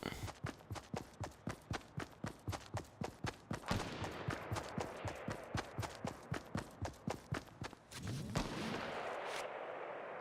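Gunfire in Fortnite Battle Royale: a long rapid string of loud, evenly spaced shots, roughly three to four per second, ending in a burst and a fading tail, with no talking.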